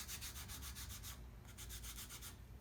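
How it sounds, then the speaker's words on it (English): Sandpaper rubs back and forth over a small model Piper Cub airplane in quick, rhythmic strokes, close and steady, with a brief pause midway. "we don't want them to sand down too much of their model"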